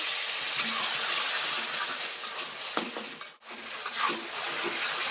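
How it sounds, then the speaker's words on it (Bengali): Masala for a pangas fish curry, with chopped tomato and a little water added, sizzles and fries steadily in a pan while being stirred, a continuous near hiss with a brief dip partway through. "আমি সামান্য পরিমাণে একটু জল দিয়ে দেবো জল দিয়ে আমার সুন্দরভাবে মশলাটা কষিয়ে নেব"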